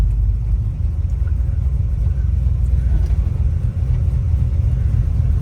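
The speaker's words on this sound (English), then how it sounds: "we're going to take this 1966 Chevrolet Chevelle for a test drive and see how it does" 1966 Chevrolet Chevelle SS 396 V8 on a test drive: a steady, deep engine rumble with road noise, heard from inside the car at a constant level with no clear revving.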